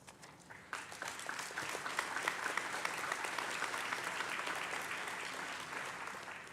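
Applause ripples through a crowd at a county career and technical graduation ceremony honoring award winners, starting thinner and swelling into sustained, moderately distant clapping from many people.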